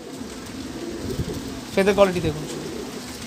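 A pigeon in a loft lets out a brief low burbling coo near the end, close by, while someone talks over it.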